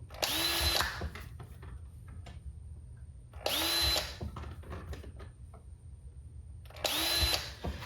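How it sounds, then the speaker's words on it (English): Three short bursts of a Porter-Cable hand power drill whirring up and stopping, evenly spaced, with quiet clicks and handling noises in between. "just a little hand drill"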